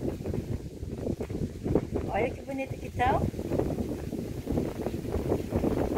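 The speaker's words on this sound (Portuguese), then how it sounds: "O vento é tanto, pessoal, que castiga as bichinhas. Tá muita ventania." Strong wind blowing outdoors at a countryside farm garden among potted plants, a steady broadband rush buffeting the microphone throughout while someone talks over it.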